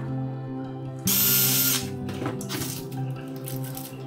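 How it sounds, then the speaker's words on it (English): Power drill boring into wood for a DIY turkey decoration, with a loud whining burst of spinning followed by lower grinding and slowing bit noise, close and alone. "So I'm gonna continue drilling."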